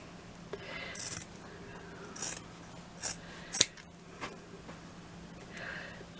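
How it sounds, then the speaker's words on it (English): Large scissors cutting paper during a craft project, several separate crisp snips and slicing strokes spaced a second or so apart, close and clear against a quiet room. "Let me get my bigger scissors."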